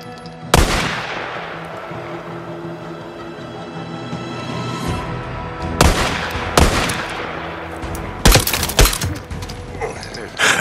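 Gunfire in the video game Days Gone: loud, sharp shots ring out one at a time and then in quick clusters, each cracking out and trailing off into a rumbling echo.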